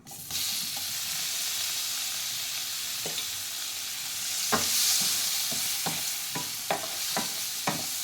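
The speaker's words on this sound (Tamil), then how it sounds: "பன்னீரை நல்லா எண்ணெயில் நல்லா மிக்ஸ் பண்ணிக்கலாம்." Oil sizzles steadily in a pan as paneer fries, with a series of sharp clinks and scrapes from stirring scattered through the second half.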